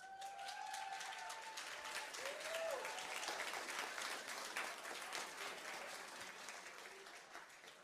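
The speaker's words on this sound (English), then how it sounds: "a round of applause for these guys" Steady applause from a fan-event crowd, dense clapping that holds loud for several seconds before gradually thinning toward the end, with a few faint whistles or tones mixed in.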